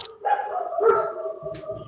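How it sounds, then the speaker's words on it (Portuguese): A dog in the background gives a short series of barks and yips, clear but somewhat muffled, followed by a brief whining tail, heard indoors through a door with no talk over it. "Vocês estão ouvindo latidos ao fundo?"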